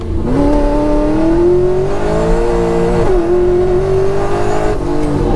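An 800 hp Camaro muscle car engine roars loudly and continuously, pitch climbing steadily as it accelerates hard after downshifts, with a brief dip and a surge as it shifts.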